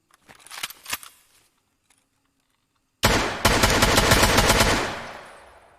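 Gunfire from weapon testing in the video game Escape From Tarkov: a few quiet sharp shots, a pause, then a loud sustained automatic burst that rings out and fades.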